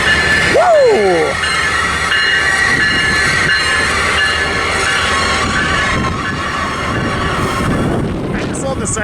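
A passenger train with Sightseer Lounge cars rolls past at a San Diego trackside, loud and close, its steady rumble and clatter filling the whole stretch, with a brief wheel squeal near the start.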